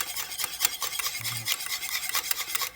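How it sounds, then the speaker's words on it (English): Beaten egg yolks being whisked quickly into a lemon pie mixture in a bowl, a fast, steady scraping rasp with rhythmic strokes, close and alone. "just mix it really fast so the eggs don't start cooking"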